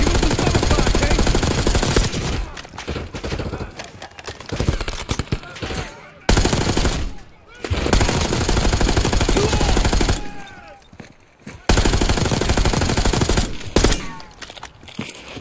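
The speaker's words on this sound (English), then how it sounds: "Give him some cover fire" Sustained, loud cover fire in Call of Duty: Black Ops 6, long automatic bursts broken by short pauses, close and dominant throughout, with occasional voices beneath.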